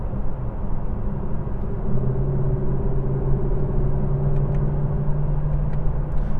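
A Lexus LC 500 with a ten-speed gearbox pulls onto the autobahn, its engine holding a steady droning rumble that rises slightly in pitch, heard from inside the cabin without talk.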